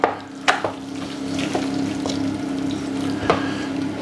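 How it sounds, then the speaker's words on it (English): Grated cheese being stirred into an asparagus and sundried tomato risotto in a hot pan, with a spoon scraping and knocking a few times over a steady soft bubbling sizzle, close up. "So keep turning that risotto over to make sure the cheese gets well mixed in."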